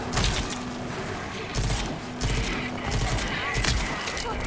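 A new weapon firing in the shooter game Rage 2, heavy repeated blasts and thumping bursts in a loud, dense barrage with mechanical clatter between shots.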